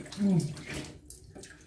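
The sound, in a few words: rinsing face with warm water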